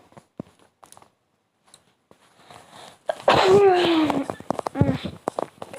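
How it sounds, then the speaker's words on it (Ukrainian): A sneeze sound effect in the Minecraft video game stands out clearly amid game noises and light clicks, with a person's voice talking nearby. "Чихну в Майнкрафті."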